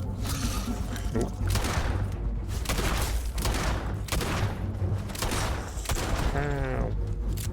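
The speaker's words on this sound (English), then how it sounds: "I done shot him with my 6-shooter." Revolver shots ring out in the space game Starfield, a rapid run of loud booming blasts over a dense, continuous game soundscape, with a voice talking over parts of it.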